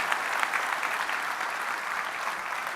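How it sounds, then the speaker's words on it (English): A large audience at FlightSimExpo 2025 applauds steadily, a dense, even wash of clapping without voices over it. "let's give ourselves and everybody a big round of applause"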